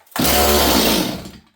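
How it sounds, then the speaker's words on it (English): A STIHL 026 chainsaw with the choke on fires up for a single loud burst of engine roar, about a second long, then sputters and quickly dies away. "here we go. Here, let's put the choke back on."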